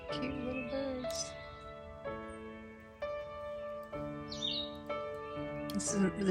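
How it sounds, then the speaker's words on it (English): Small birds chirp and tweet in short bursts around a trail shelter on the Appalachian Trail, close by, over a steady tonal background hum. "Cute little birds."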